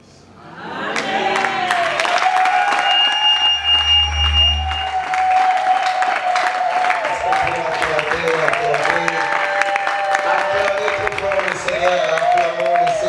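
A congregation at a religious wedding ceremony bursts into steady, sustained applause that holds loud throughout, with voices and cheers mixed into the clapping.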